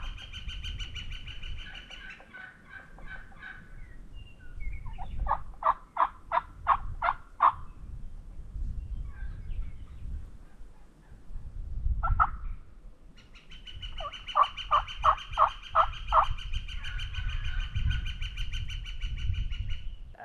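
Wild turkeys call during a spring hunt in South Dakota: rapid rhythmic yelping bursts and loud gobbles, some near and some farther off, separated by quiet stretches of outdoor ambience.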